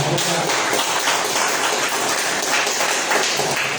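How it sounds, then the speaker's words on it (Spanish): Church congregation applauding together during a Spanish-language worship service, a steady, dense wash of clapping that runs unbroken and fairly loud for the whole stretch. "¿Cuántos quieren darle un aplauso al Señor?"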